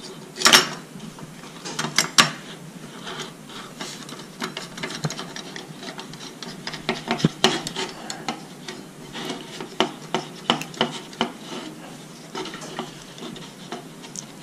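A repaired Jetboil piezo igniter is clicked and handled, giving a quiet series of sharp clicks and small mechanical ticks at irregular intervals over soft background noise.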